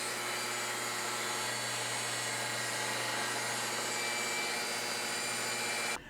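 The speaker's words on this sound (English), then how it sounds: "So we'll go on the table saw and we'll cut some bevel cuts" A table saw makes a bevel cut through wood blocking for a tiny house frame: a loud, continuous whining drone held steady for about six seconds, then cutting off abruptly at the end.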